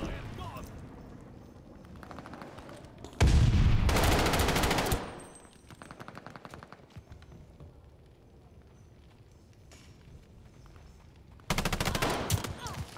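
Bursts of automatic gunfire from a Battlefield video game, loud and sharp, coming in two heavy volleys with quieter firing between them, under occasional talk.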